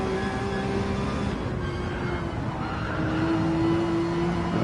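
Onboard a Porsche race car at the Nürburgring 24 Hours, a loud sustained engine drone with steady whining tones that shift pitch as the car accelerates and changes gear.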